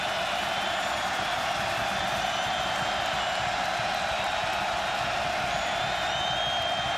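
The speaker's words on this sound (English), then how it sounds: "The crowd is into it." Steady crowd roar at a 2010 college football game between Oregon and California, broad and sustained throughout with scattered whoops rising from the stands, no single voice standing out.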